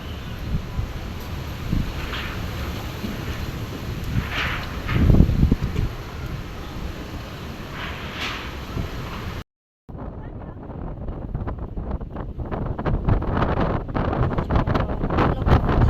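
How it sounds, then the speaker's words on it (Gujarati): Strong storm wind gusting outdoors, a loud roaring rush buffeting the microphone and rustling, briefly cut off midway, with voices speaking over it. "વાવાઝોડું છે. જો કેટલો પવન ઉડે છે."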